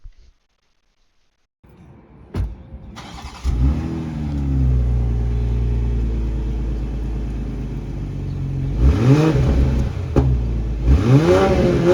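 A Toyota Mk5 Supra with a modified exhaust starts and settles into a deep, loud idle, then is revved twice with rising and falling sweeps, heard up close and alone.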